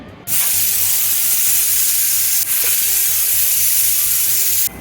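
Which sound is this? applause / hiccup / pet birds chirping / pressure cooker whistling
pressure cooker whistling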